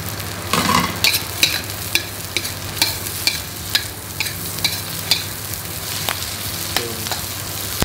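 Onions stir-fried in oil left over from frying salted fish, a steady sizzle under a run of sharp spatula scrapes and taps against the pan at a regular pace.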